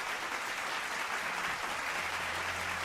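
Applause sound effect fired during a Warships PC livestream, a steady wash of crowd clapping that holds evenly for about three seconds, loud and alone.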